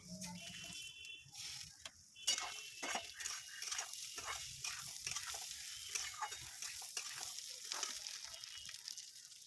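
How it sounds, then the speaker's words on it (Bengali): Gobindobhog rice and mung dal added to hot mustard oil with cumin, dried chillies and bay leaf, giving a soft, steady sizzle with light stirring rattles, quiet and without speech. "হালকা নেড়ে চেড়ে ধুয়ে রাখা গোবিন্দভোগ চাল ও মুগের ডাল দিয়ে দিচ্ছি।"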